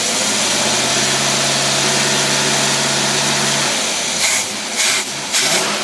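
A Dodge engine fitted with a Rochester Quadrajet carburetor runs a light-load run-up: a loud, steady, close drone that drops off and turns into uneven bursts near the end.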